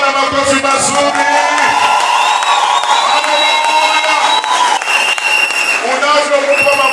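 A church congregation clapping and cheering in praise to God, a loud, dense roar of applause, whoops and shouts that fills the room continuously with no pause.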